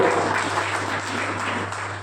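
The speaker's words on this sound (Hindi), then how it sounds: "ताली वाली बजाओ या आप भी चाहे तो।" Clapping from a congregation at a Sunday church service, a steady, dense patter of many hands over a low electrical hum, with no break in its few seconds.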